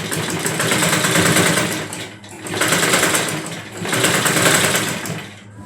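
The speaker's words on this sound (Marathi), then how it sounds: "या हाफ फिटर मशीनवर अशा प्रकारे जाड कापड आला की शिलाई बसत नाही" A half-fitter sewing machine stitches thick cloth for a petticoat, running in three steady bursts separated by brief pauses, loud and close with no voices.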